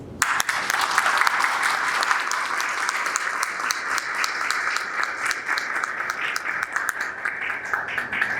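An auditorium audience applauds at the close of an academic panel, sustained sharp clapping from many hands with crisp individual claps standing out, continuing strongly throughout.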